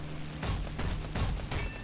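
A P-63A-10 fighter plane's main cannon firing in a video game, four heavy evenly spaced thumping shots over a steady engine drone, close and loud.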